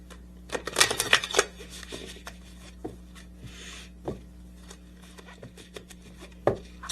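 Oracle healing cards shuffled close up: soft papery riffles and light taps come in a quick cluster, then scattered quiet flicks and slides over a faint steady hum, with no talking.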